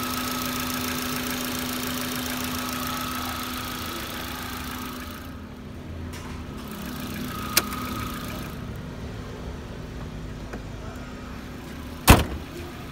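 A 2011 Kia Morning with a 1.0 engine and manual gearbox idles with a steady low hum, close by and alone, with two brief sharp clicks partway through.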